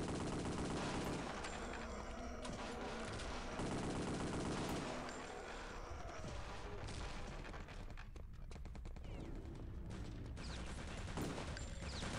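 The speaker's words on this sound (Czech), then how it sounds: "Někdo tady ještě střílí." Rapid gunfire and explosive bursts from the PC shooter Return to Castle Wolfenstein rattle almost continuously, with dense overlapping shots and booms at fairly low volume and no voices.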